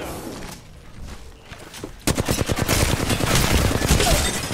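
Video game gunfire in a survival shooter: a quieter stretch of distant shots gives way to a loud, rapid burst of automatic fire that continues to the end.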